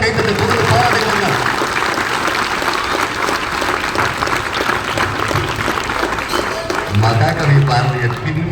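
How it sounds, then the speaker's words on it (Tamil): Sustained audience applause for a student performer, a steady dense wash of many hands clapping that stays loud throughout, with some crowd murmur and voices mixed in. "இந்த மாணவிக்கு நல்ல ஒரு சரியான கைத்தட்டை கொடுத்து பாராட்டுங்க."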